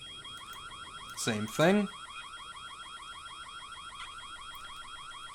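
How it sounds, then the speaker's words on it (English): A wailing electronic alarm in the 2001 video game White Day, a rapid warbling siren that repeats steadily throughout at moderate level, while someone briefly speaks over it. "This alarm sound is driving me insane and is making my head hurt."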